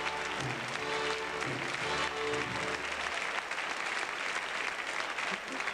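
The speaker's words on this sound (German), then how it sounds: "Applaus" The audience at the Mainz carnival show "Mainz wie es singt und lacht" breaks into sustained applause, a thick roar of many hands clapping that runs steadily throughout, with some music or voices fading under it early on.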